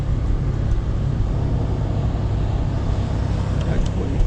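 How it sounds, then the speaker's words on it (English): A car engine idles while warming up on a cold day, a constant low, throaty rumble that stays steady and fairly loud throughout with no break. "It must be cold. The car's not quite warm enough yet."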